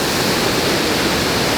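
An Icelandic waterfall roars close and loud as a constant, dense hiss of crashing water, steady and unbroken with no voices.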